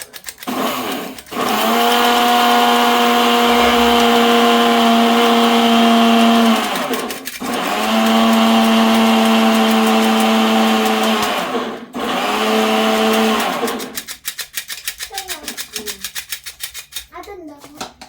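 An electric mixer beating cake batter runs in three long whirring bursts with brief pauses between them, loud and close. Talk follows, along with some clatter.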